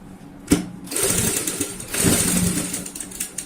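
A sewing machine runs stitches along a box cushion cover, its close whirring motor buzz coming in sustained runs after a sharp clack, with no talking.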